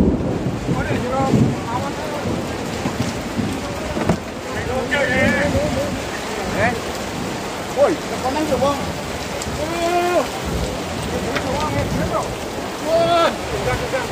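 Very strong wind buffets the microphone at an outdoor stage event, a loud rushing roar with gusts, while people talk and faint music comes through underneath.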